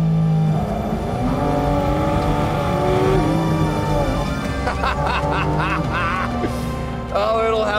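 A 2022 Porsche Cayman GT4 RS engine revs hard on the throttle, its loud, close tone rising and falling in repeated sweeps with brief quick blips near the end.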